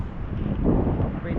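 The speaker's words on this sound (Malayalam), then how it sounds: "ചെറുതായിട്ട് ഇങ്ങനെ കാറ്റ് വീശുന്നുണ്ട്" Strong wind buffets a breakwater by the sea, a rough, low, continuous roar of gusts blasting the microphone at close range.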